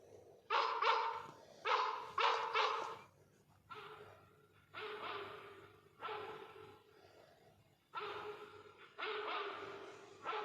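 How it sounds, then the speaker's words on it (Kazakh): A Great Dane in Hampstead barks in a series of deep, loud, close barks, some in quick doubles, separated by short pauses, with no other sound. "Бұл Хамстедтегі Даниялық төбет қой."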